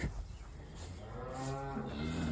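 A cow moos loudly in a farm pen, one long, drawn-out, close call that rises and holds for about two seconds, with no talking.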